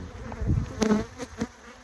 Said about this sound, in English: There's a little bee fight down there